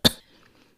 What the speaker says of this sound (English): A dry, non-productive, and persistent cough is one of the most well-known side effects of ACE inhibitor therapy.